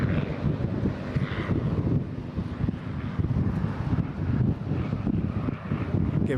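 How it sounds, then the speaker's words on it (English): A P-51D Mustang fighter with a Packard Merlin engine flies past at an airshow over Eastbourne, its steady engine drone mixed with heavy wind buffeting on the microphone. "the P-51 Mustang with its Merlin engine"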